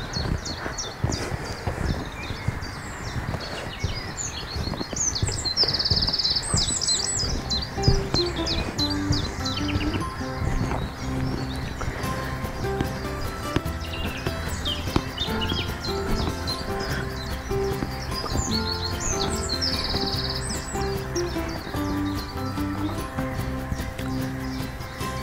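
Dense outdoor chorus of chattering and chirping birds, steady and continuous, with layered calls near and far over a constant background wash.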